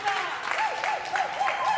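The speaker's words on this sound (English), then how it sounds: "let's give them a round of applause for trying." Brief applause rises from an audience for debaters, light and busy clapping lasting under two seconds, with a voice or tonal sound running across it.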